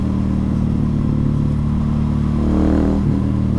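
Heavily modified KTM 690 SMCR single-cylinder motorcycle ridden along narrow lanes, a loud close engine drone with steady throbbing pulses that rises briefly near the end, no talking.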